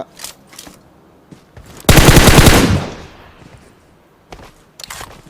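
PUBG Mobile gunfire: a loud sustained automatic burst of about a second, surrounded by several quieter, sharp single shots before and after.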